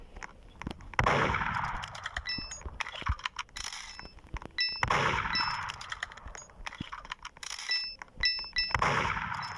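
Bright chiming coin pickup sounds ring out repeatedly in a video game amid clanging game effects and rapid bursts of gunfire-like action.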